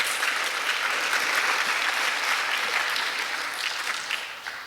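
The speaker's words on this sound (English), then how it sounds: "Let's give them a round of applause." Audience applause at a climate emergency and Green New Deal panel event, a dense, steady round of clapping lasting several seconds before tapering slightly at the end.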